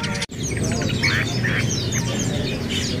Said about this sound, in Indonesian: Di depan kita ini ada burung parkit ya pemirsa nih.